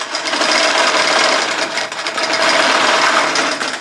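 A computerized quilting machine stitches out a design, its loud, steady needle hum continuing without a break close by.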